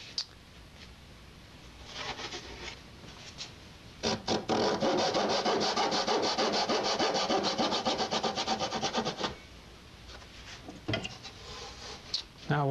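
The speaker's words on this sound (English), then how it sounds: "now I have to cut these braces and fit them to the kerfed" A hand saw cuts wooden braces inside a guitar body being built, with quiet scraping at first and then a fast, even run of loud back-and-forth strokes for several seconds, followed by a few scattered rasps and knocks.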